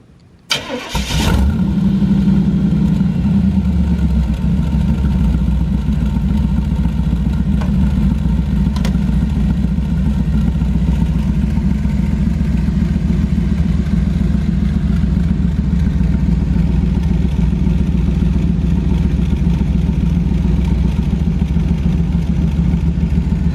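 A 1957 Ford Thunderbird engine cranks briefly, fires up loudly at close range and settles into a steady, even idle that runs on alone.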